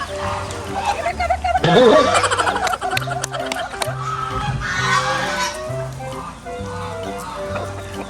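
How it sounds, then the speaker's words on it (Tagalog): Chickens of several kinds, small and large, cluck and chatter nearby on a farm with a steady rhythmic beat of music underneath, and a loud squawk rises early on. "marami kami ibang klase manok"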